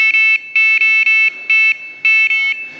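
A feeder fishing bite alarm detector beeps in short, bright, sharp bursts, mostly grouped in twos and threes with brief gaps between them. The beeps are close and loud, with no talking.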